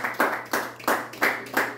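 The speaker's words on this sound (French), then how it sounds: "Acclame pour Jésus." A congregation claps in unison during a church worship service, five or six sharp, evenly spaced bursts in a steady rhythm, fairly close and moderately loud with no talking.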